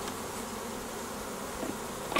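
Honey bees swarm at a beehive, giving off a dense, continuous buzzing drone that holds steady and close for two seconds.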